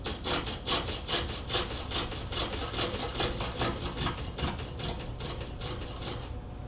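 A chamfer is cut by hand on the edge of a large wooden table top, with rapid rhythmic rasping back-and-forth strokes, close and steady, fading slightly at the end, with no voices.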